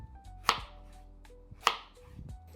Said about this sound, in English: I'm going to chop this off into 2 or 3 inches slices.